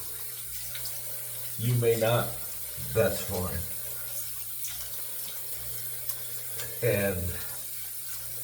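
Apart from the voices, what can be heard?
hot water running from a tap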